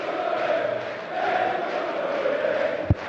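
Darts crowd at a European Open semi-final rumbling and chanting steadily throughout, a broad sustained roar with a single sharp thump near the end.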